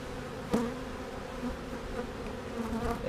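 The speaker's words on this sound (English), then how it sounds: "She's got bees." Honey bees buzz steadily in a low, continuous drone around an open hive during an inspection, close and persistent, with a brief rustling knock early on.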